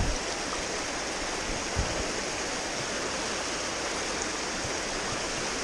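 Running water in a stream on a fell near St Sunday Crag in the Lake District, a steady, even rush that stays constant throughout with no voices.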